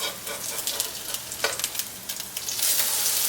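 Zucchini fritters frying in a pan give a close, steady sizzle with scattered crackles and pops, swelling into a louder, brighter hiss toward the end, with no talk.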